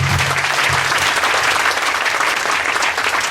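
A church congregation claps and cheers continuously, dense steady applause filling the room at full volume from start to finish.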